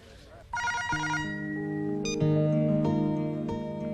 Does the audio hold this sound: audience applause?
no